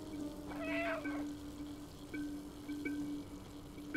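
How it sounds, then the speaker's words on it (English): A cat's meow in the video game Stray sounds once, clear and fairly close, over a quiet game soundscape with a steady background hum and soft faint chirps. "I forgot that I have a meow button."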